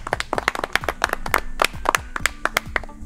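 Children in a village clap together in a brisk, loud round of quick claps at close range, with no talk over it.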